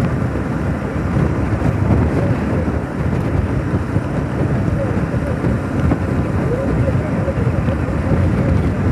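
Strong wind buffets the microphone during an outdoor vlog on the road from Parthibanur to Paramakudi, a loud continuous low roar and rumble with no breaks.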